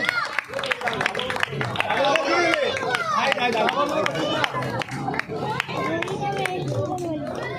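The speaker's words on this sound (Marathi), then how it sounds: "बजाव ताली." An audience at an Independence Day gathering claps in a dense, ragged round of applause, mixed with crowd chatter and voices throughout.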